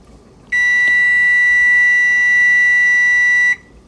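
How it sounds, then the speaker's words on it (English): A single steady electronic beep, loud and sustained for about three seconds, from an appliance, with quiet before and after. "you're going to hear a beep"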